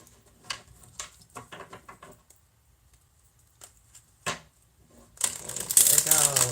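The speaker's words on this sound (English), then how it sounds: "Let's get in a nice good shuffle for Virgo." A deck of cards being shuffled in quick riffling bursts, close and fairly quiet, followed by a louder rush of flicking cards at the end.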